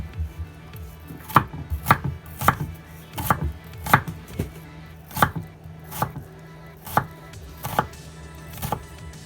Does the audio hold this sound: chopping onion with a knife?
yes